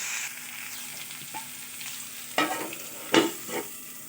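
Drumstick curry with salt and turmeric is stirred in a pan over a low, faint sizzle, with two louder scraping stirs near the end.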